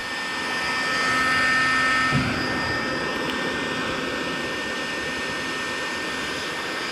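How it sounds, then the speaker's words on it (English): A heat gun blows hot air with a steady, loud whooshing roar that swells slightly at first and then holds constant, close by, with no talking. "you could use a heat gun"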